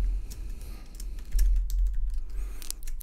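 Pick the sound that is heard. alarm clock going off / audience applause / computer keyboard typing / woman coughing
computer keyboard typing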